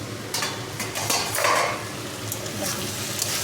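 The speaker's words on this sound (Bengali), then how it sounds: "এবার ঢাকনাটা খুলে একটু নেড়ে দিই তরকারিটা," Curry is stirred in a pan after the lid comes off: soft metallic clinks and scrapes of a utensil against the pan over a faint sizzle, close and fairly quiet, with no speech.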